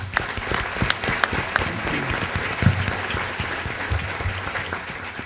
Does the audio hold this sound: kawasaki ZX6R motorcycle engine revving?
no